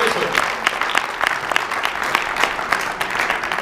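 Church congregation applauding during a sermon, steady dense clapping from many hands with scattered louder claps, some voices faintly mixed in.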